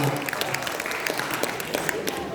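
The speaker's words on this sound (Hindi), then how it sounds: "आपकी जोरदार तालियों के साथ" The audience at a university freshers' poetry mushaira breaks into applause, a fairly quiet, continuous patter of many hands with some voices underneath.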